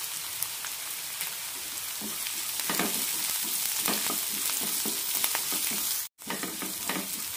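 Crushed garlic with green and red chilies fries in a pan, a bright crackling sizzle like rain on a surface, with repeated soft stirring scrapes and a brief sudden dropout near the end.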